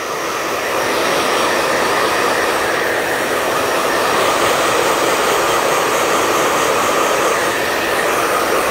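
A hair dryer at full blast on wet, freshly cut medium-length layered hair, a loud continuous close-up whoosh that holds steady throughout with no talking.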